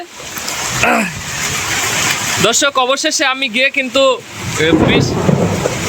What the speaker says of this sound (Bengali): এই যে দেখুন প্রচুর বৃষ্টি হচ্ছে